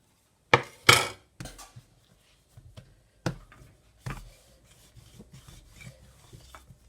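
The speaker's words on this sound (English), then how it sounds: "I've got a big pan, so I'm gonna roll this out to fit my pan." Pizza dough being rolled out to fit a large pizza pan, with a few sharp knocks and rubbing scrapes of a rolling pin on the surface, then quieter intermittent rolling sounds, close and with no talk.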